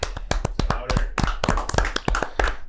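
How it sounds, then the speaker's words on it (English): A small audience claps at a comedy-style show, sharp separate hand claps in an uneven burst, close and fairly loud with no talk over them. "At Danny, give him a round of applause, everybody."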